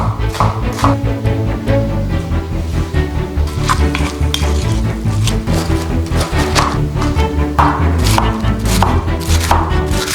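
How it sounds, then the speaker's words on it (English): Onions being chopped in a home kitchen, rapid knife strokes on a board in a dense, loud rhythm, with a busy background of clattering and sizzling, no speech. "Adding some chopped onions."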